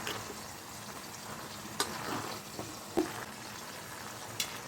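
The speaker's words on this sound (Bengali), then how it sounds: "এই বড়িগুলো এবার ভেজে নিচ্ছি, ছোট ছোট বড়িগুলো" Small bori lentil dumplings frying in oil, a soft steady sizzle with a few brief clinks or stirs standing out, faint and continuous, no talking.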